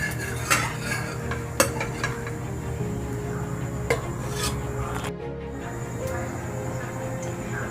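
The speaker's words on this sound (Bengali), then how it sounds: "ডিম ভাজাটা তুলে নিচ্ছি।" A fried egg is lifted out of a karai with a metal utensil, producing several sharp scraping clinks against the pan over a soft background hiss, with quieter rubbing and shuffling between the louder knocks.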